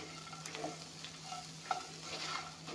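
A fish and bean curry frying in a pan while being stirred, with a soft continuous sizzle, occasional scrapes and a sharp clink of the spoon against the pan, quiet and close.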